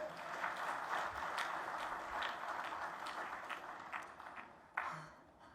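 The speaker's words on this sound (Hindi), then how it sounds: "शुभ शुभ के लिए ताली बजा दें" A rally audience claps for a speaker on stage at a political event, a faint, distant wash of many hands that stays steady before thinning out near the end.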